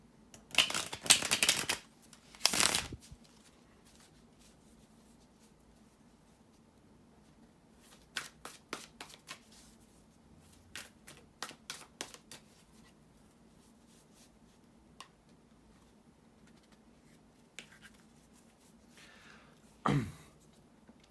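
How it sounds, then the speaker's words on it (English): Close, dry riffling and shuffling of tarot cards in several bursts, with scattered soft taps and slides between them, in a quiet room. "bear with me a second, guys, to shuffle the tarot cards"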